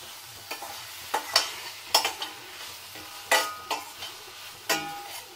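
Tomatoes and garlic fry in a pan with a light sizzle beneath repeated sharp scraping and stirring strokes that land at an uneven rhythm.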